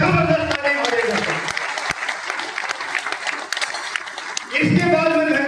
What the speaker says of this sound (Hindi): क्राउन एम्बेसडर मिस्टर रामवीर महाराज के लिए जबरदस्त तालियां हो जाएगी